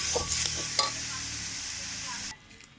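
A dish with sprinkled poppy seeds and nuts is stirred in a frying pan, giving a soft sizzle with scraping spoon strokes for about two seconds before the sound drops away abruptly near the end.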